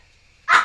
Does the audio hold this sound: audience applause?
no